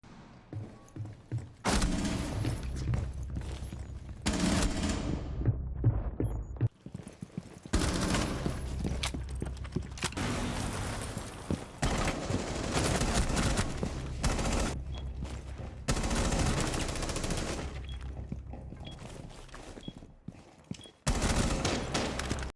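Rapid gunfire in the shooter game Rainbow Six Siege, dense bursts of loud shots with brief pauses between them, sustained across the whole stretch with no voices.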